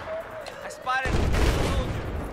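Gunfire in the Battlefield 4 video game, a sudden burst of rapid shots that becomes a dense, loud rattle after a brief lull, with game radio chatter and voices in the mix.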